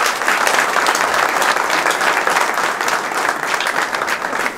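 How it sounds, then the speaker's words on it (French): A crowd at a partners' evening of the FC Pays Voironnais football club gives loud, sustained applause to honour the women being recognised, a dense wall of clapping lasting several seconds. "On peut les applaudir."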